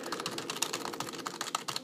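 A computer keyboard is hammered rapidly while someone plays the browser game Dragonball Devolution, producing dense, uneven clattering keystrokes close to the microphone with no talking.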